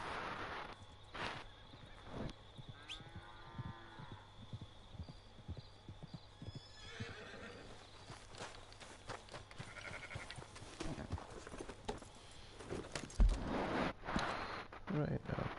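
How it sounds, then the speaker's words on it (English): Horse hooves clip-clop in the video game Red Dead Redemption 2, a soft, steady rhythmic trot under quiet game ambience and occasional talking. "Got a bloody horse."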